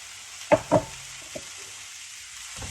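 Mushrooms fry in a wok of vegetables and seafood, a steady close sizzle broken early by two sharp knocks from stirring and a fainter tap later.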